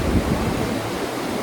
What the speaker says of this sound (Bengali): আওয়াজ নিশ্চয়ই আপনারা শুনতে পাচ্ছেন নদীর